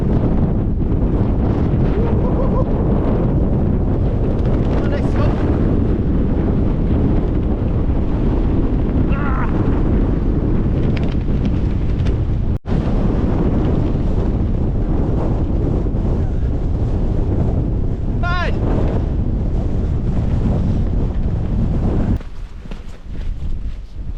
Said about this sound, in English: I'm glad to be out of that wind